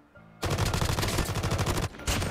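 Rapid automatic gunfire from the mobile shooter game Call of Duty Mobile, a loud sustained burst of evenly spaced shots, a brief pause, then firing resumes.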